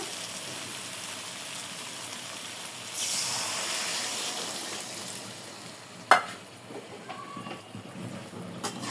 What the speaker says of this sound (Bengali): এখন আমি সিদ্ধ হওয়ার জন্য গরম পানি দিয়ে দেব